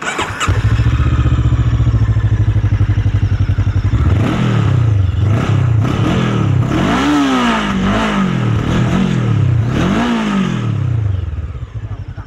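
FKM Expres 500 SC two-cylinder motorcycle, close and loud, idling in a deep, bassy rumble and then blipped through several rising and falling revs with a mild whistle, before settling back down.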